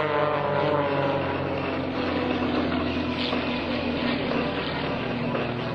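Three propeller aerobatic planes fly a formation loop at an air force base air show, their engines blending into a steady, dense droning roar with no voices.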